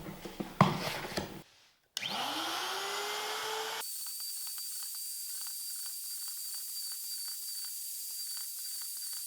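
A drill boring shelf pin holes through a bookshelf side with a jig starts after some faint handling noise, spinning up to a whine, then settles into a steady high-pitched hiss and whir.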